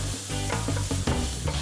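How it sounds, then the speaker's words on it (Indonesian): Shallots and sliced chili stir-fried in hot oil for balado sauce, with a steady close-up sizzle and the scrape of stirring throughout. "Untuk sambal baladonya kita tumis bawang ditambah cabai iris."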